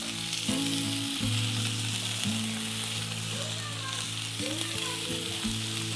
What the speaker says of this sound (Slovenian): Malenkost olja in zdaj bom jaz tele šunkice na hitro lepo popekel